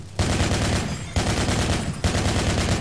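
Automatic weapon fire in Project Reality for Battlefield 2, three long, sustained bursts of rapid shots, each starting abruptly, loud and close with brief pauses between them.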